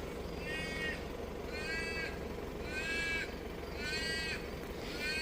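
Birds call repeatedly in harsh, evenly spaced caws, about one call per second, fairly close over a low background hum.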